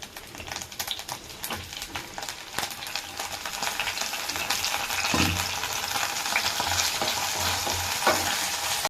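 Brinjal (eggplant) pieces fry in a pan for a chutney, giving a steady close sizzle with scraping stirs and spatula knocks throughout.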